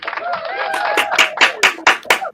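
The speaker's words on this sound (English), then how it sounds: "Round of applause for Ray Ray." A live show crowd gives a round of applause, short bursts of clapping and cheering under a host's voice.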